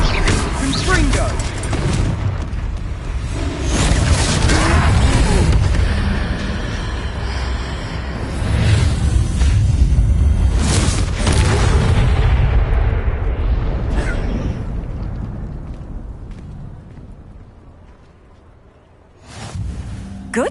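Confringo blasting spells burst again and again during a fight with a troll in the video game Hogwarts Legacy, loud booming explosions rolling continuously under a voice before fading to quiet near the end.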